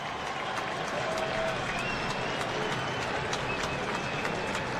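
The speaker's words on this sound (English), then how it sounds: "Fans trying to clap Kikuchi to a 6th strikeout already." Baseball fans at a Seattle Mariners vs Toronto Blue Jays game clap steadily in rhythm, urging pitcher Kikuchi toward a strikeout; the dense, distant stadium crowd noise continues without a break.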